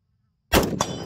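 A single loud gunshot cracks out at an outdoor shooting stop along the Arizona Trail, a sharp onset after silence followed by a short ringing tail and a second echoing report.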